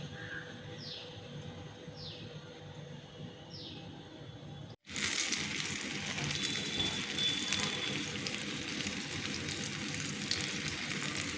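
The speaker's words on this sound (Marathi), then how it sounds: "मंद गॅसवर आता या शिजू द्यायच्या आणि नंतर मग आपण त्या उलट पलट करून भाजून घेऊ" Stuffed green chillies frying slowly in a pan over a low gas flame give a soft, even sizzle that grows brighter and fuller partway through, with faint bird chirps early on and no voices.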